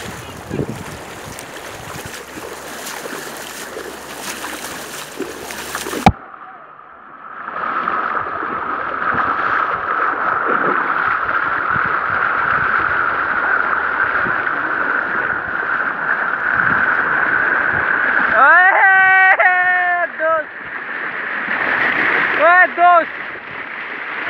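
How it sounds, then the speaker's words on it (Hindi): Floodwater in a swollen river rushes steadily while a person wades across it. The flow is broad and continuous and close to the microphone. Wind buffets the mic at the start. Near the end, brief voices and other tonal sounds cut in. "ये आप देख सकते हैं पानी किस तरह बह रहा है और मैं किस तरह पार कर रहा हूँ"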